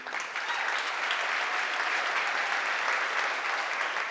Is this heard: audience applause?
yes